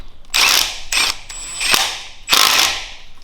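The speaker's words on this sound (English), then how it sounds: "Now I'm just going to continue on doing this bolt on the high pressure fuel pump" A ratchet undoes a bolt on the high-pressure fuel pump of a BMW N47 diesel engine, giving several loud, close bursts of rapid metallic clicking with brief pauses between strokes.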